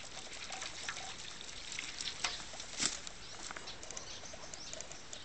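Water poured a little at a time into clay soil mixed with rice hulls, a soft wet trickling and patter with scattered small splashes, faint and close, with no speech.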